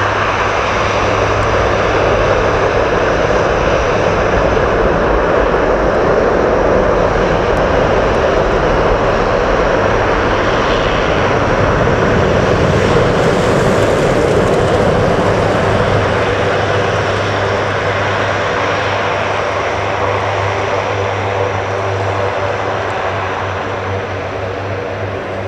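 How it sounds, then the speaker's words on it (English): Military jet and propeller aircraft engines roar continuously at RAF Mildenhall as a KC-10 tanker lands and a Hercules taxis toward the runway, a loud broadband rumble with a steady low hum, swelling midway and easing slightly at the end. "KC10 has just landed at Mildenhall as the Hercules gets ready to come out to the runway."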